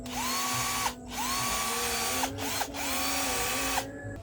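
A cordless battery drill motor whirring at low speed in a few short bursts, each with a steady whine, briefly stopping between runs; close and moderately loud.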